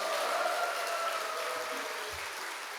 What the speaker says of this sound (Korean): 이럴 때 발빠르게 박수와 환호성을 보내주시면